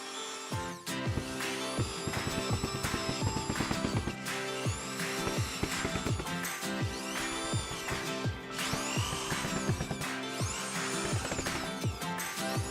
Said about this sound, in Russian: я закрутил еще кучу саморезов